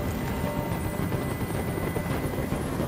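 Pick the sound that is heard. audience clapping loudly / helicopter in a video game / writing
helicopter in a video game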